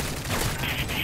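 Rapid, sustained shooting in the video game Modern Warfare 3, a steady loud rattle of shots running through the whole second with no pause, close and dense.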